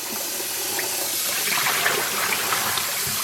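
Berry-colored dye water draining and trickling from rinsed crochet cotton thread, a steady close hiss of running water with small splashes.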